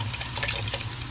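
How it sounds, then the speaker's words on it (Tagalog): Pig's blood splatters in a boiling pot of dinuguan, a brief, close, bubbling liquid sputter with soft wet spits. "Yan, tumatalsik po yung dugo."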